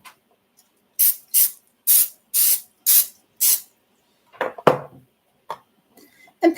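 Six quick bursts of cooking spray hiss onto a mini griddle in a steady rhythm, close and loud, followed by a few soft clicks and knocks.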